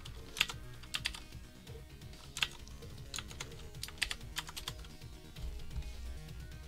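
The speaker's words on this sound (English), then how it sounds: "And I was typing in my name too." Steady computer keyboard typing with bursts of sharp key clicks and a few louder taps, close and fairly quiet against a low background hum.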